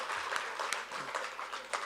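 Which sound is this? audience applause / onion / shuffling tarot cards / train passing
audience applause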